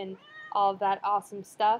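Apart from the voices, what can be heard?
cat meowing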